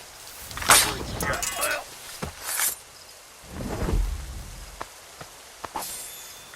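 Rain and rumbling thunder from a storm in Assassin's Creed Rogue, a low roll of thunder swelling in the middle beneath steady rain hiss, with scattered sharp knocks and voices talking over parts of it.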